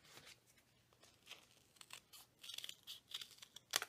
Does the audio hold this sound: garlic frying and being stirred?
no